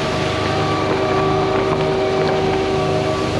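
A Putzmeister 40Z concrete pump runs during priming, giving a loud, continuous mechanical roar with a steady tonal whine throughout.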